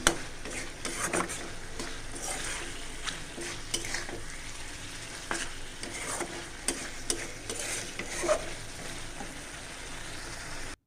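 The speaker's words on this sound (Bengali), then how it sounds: "তো মাছটা সুন্দর করে আমি ভুনা করে নিই।" Fish is stir-fried bhuna-style in a pan, with a constant close sizzle of oil and frequent scraping, clinking strokes from a spatula stirring against the pan.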